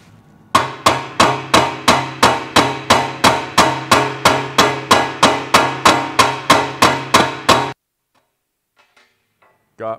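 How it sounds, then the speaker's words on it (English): A hammer strikes metal on a 1958 Chevy Delray in a fast, even series of ringing blows, about twenty in a row, loud and close, then stops into near silence. "but I've got a hammer"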